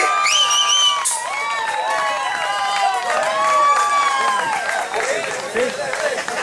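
Applause for the singer Fernel at a family gathering's cultural event, with clapping under cheering and shouting voices; tonal sounds ride over the crowd noise.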